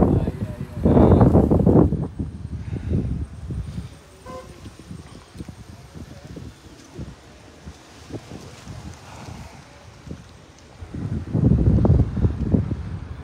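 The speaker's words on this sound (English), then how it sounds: "What a breezy Sunday morning here in New Amsterdam. Very, very breezy." Gusty wind outdoors on a Sunday morning along Republic Road in New Amsterdam, Berbice, buffets the microphone in heavy rumbling bursts at the start and end, with calmer stretches between and voices talking underneath.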